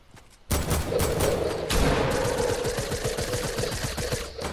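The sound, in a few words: gunfire from a video game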